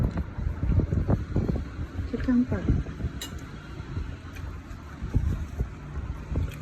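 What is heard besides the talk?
wind blowing into the microphone outdoors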